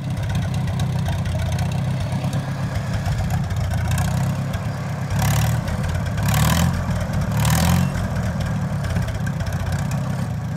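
Farmall Super M tractor engine, running on 6 volts, idling steadily with a deep, even low chug close by, briefly rising in a few short revs before settling back to idle.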